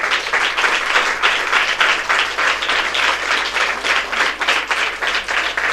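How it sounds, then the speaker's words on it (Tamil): Dense, sustained audience applause fills a temple consecration-ceremony discourse, many hands clapping together at steady loudness for the gathered temple priests. "நீங்கள் முதல்ல இங்கே வந்திருக்க சிவாச்சாரியார் அத்தனை பேருக்கு ஒரு கைத்தட்டு கொடுங்க"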